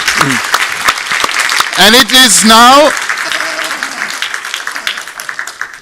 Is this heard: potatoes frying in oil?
no